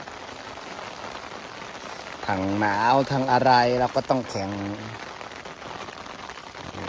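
Rain falls outdoors on a riverbank during fishing, a steady soft hiss throughout, with someone speaking over it partway through.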